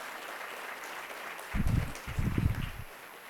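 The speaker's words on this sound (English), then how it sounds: "Would you rise so we can give you a round of applause?" A round of applause for donors at a police awards ceremony: after a quiet, muffled room, a short burst of clapping starts, dips briefly and then swells again before fading out.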